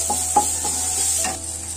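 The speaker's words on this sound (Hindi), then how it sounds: "ये प्याज भून चुका है अच्छे से।" Onion frying in a pan while being stirred, with a steady high sizzle throughout and a few short scraping stir strokes over it, close and fairly loud.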